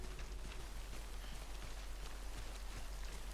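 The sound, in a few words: timefall rain in Death Stranding video game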